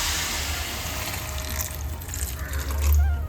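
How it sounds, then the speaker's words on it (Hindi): Water pours steadily into a pot of soaked sabudana for a chana dal kheer, a close, continuous splashing stream that swells slightly near the end. "साथ में इसमें डालेंगे पानी।"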